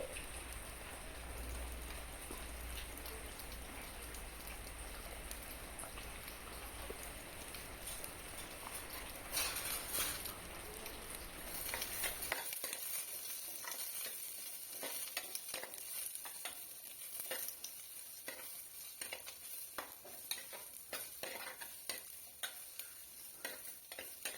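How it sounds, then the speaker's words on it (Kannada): Finely chopped onions frying in coconut oil for a fish curry, a steady close crackling sizzle with occasional stirring scrapes that thins out partway through into sparser pops and clicks. "ಈರುಳ್ಳಿಯನ್ನು ಚೆನ್ನಾಗಿ ಫ್ರೈ ಮಾಡ್ಕೊಳ್ಳಿ"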